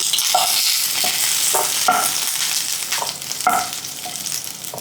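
Roasted green chilies fry in hot oil for an eggplant dish, a steady close sizzle broken by several short scraping stirs of a spatula, with no voices.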